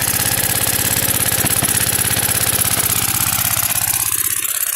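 An old Briggs & Stratton Model Y small gasoline engine with a simple mixer instead of a carburetor runs loud and close, its rapid steady firing pulses thumping evenly throughout.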